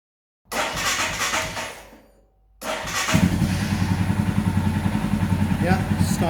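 A Royal Enfield Himalayan motorcycle engine catches briefly and dies after its fuel system sat empty, then restarts and settles into a steady, close, thumping idle.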